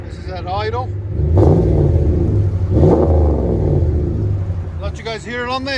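RAM 1500 pickup's 5.7 HEMI V8 exhaust through a Flowmaster Outlaw muffler, a loud close low rumble with two throttle swells; a voice talks briefly at the start and end.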